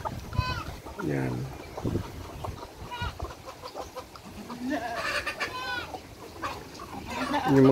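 Chickens cluck in short bursts close by, with other farm animal calls and a person talking over them.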